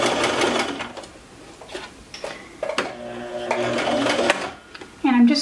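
A sewing machine stitches the hem of a pair of track pants in short, rapid mechanical bursts with brief pauses between runs, heard close and clear.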